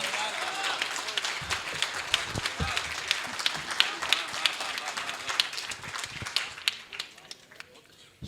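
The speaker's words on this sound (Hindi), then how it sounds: "जोरदार तालियों से खड़े होकर के।" Audience applause at a Hindi poetry gathering in Agra, a steady wash of clapping with sharp individual claps standing out, continuing throughout with some crowd noise mixed in.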